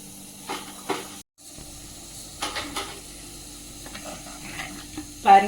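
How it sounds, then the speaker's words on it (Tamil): Tamil coconut-oil rasam simmering in a pot, giving a soft continuous sizzle and bubbling hiss with faint stirring clatter and a brief gap, rising to a louder burst of sizzle at the end; no talking. "பாருங்க கொதிக்குது."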